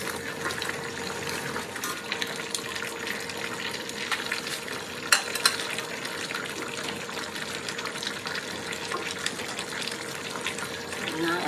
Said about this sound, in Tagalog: so need to stir like this